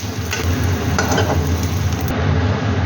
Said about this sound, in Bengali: পেঁয়াজটাকে আমি হালকা লাল করে ভেজে নেব